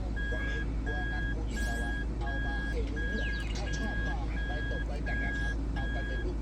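A 2011 Toyota Alphard in reverse gear sounds a steady beep, about ten evenly spaced, clear high tones over a constant low engine hum, with someone talking throughout.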